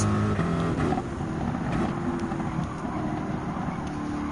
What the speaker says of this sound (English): Just gonna have to keep rev up to the limit.